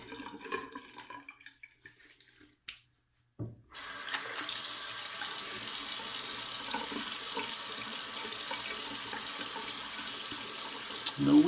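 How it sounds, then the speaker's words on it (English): Water runs steadily from a sink tap while someone rinses off after a shave with Haslinger Schafmilch soap, starting after a few seconds of quieter splashes and drips, close and continuous with no talk. "Give me 1 second while I rinse off here"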